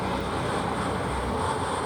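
Loud electric fan running steadily close by, a continuous broadband whoosh with a low hum that stays even throughout, no voices over it.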